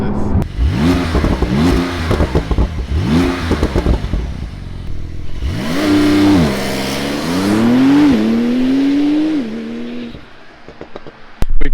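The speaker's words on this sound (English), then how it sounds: "We've just done a launch in that car." A Porsche 992 Turbo S revs hard in quick bursts, then launches with a loud rising engine roar that climbs through several gear changes before easing off, close and dominant with no talk.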